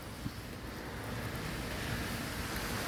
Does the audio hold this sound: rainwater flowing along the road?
yes